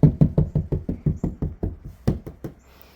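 Knocking on a Nissan Frontier door panel lined with sound deadening: about a dozen rapid, dull, deep thuds in a steady rhythm, close and alone, with the last few spaced out.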